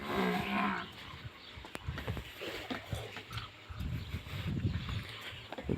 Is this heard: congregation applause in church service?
no